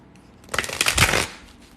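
Tarot cards riffle in a quick flurry of crisp papery flutters, close and fairly loud, lasting under a second between quiet moments.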